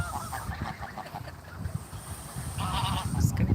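Large birds hiss close by in noisy, breathy bursts, with a short honk-like call toward the end, over rough background noise.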